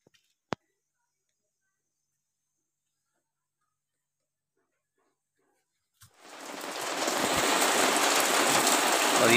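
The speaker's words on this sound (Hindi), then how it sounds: "एकदम से बारिश स्टार्ट हो चुकी है।" In a village, rain suddenly begins after several seconds of near silence broken by one sharp click, swelling into a steady, loud, close wash of drops hitting surfaces.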